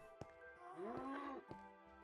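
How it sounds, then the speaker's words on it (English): Cows mooing in the Minecraft video game, a single drawn-out low moo rising and falling near the middle, framed by a few soft clicks, faint and alone. "Well, I've managed to get myself 4 cows."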